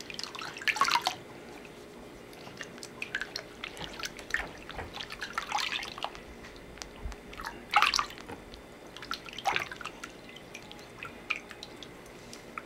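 Water splashes and drips in gentle, intermittent bursts while a baby is bathed in a tub at home, the small splashes coming close and soft against a quiet background.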